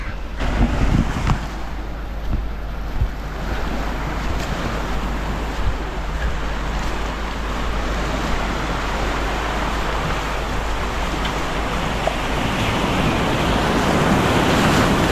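Surf on a Goa beach between Agonda and Cola Beach, a continuous rushing wash of waves with heavy wind buffeting the microphone, steady and fairly loud with no talk.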